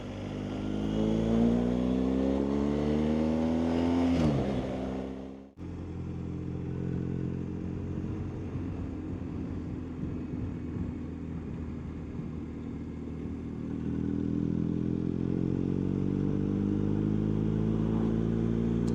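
A motorcycle rides along a loch-side road, its engine droning steadily near the microphone with a gear change and a brief dip around five seconds, then rising again as it pulls away, with steady wind and road noise underneath.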